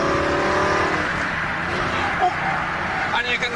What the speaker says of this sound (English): Let's hit the throttle.